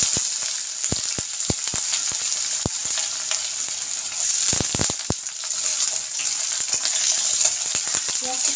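Onions fry in a pan with whole cumin seeds and cloves, producing a loud, bright, constant sizzle punctuated by quick spatula clicks and taps against the pan.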